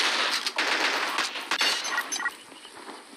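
Sniper rifle fire in the mobile shooter Pixel Gun 3D: several sharp, bright shot bursts with crackling tails, close and fairly loud, bunched over a few seconds.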